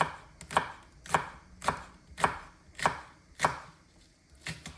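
Knife slices through spring onions into rounds on a board in a regular rhythm, seven or eight sharp close chops, fairly quiet and with nothing else heard.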